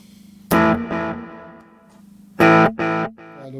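An electric guitar with a reverb effect sounds two loud bursts of strummed, slightly distorted chords, each fading out in a short, airy wash before the next one.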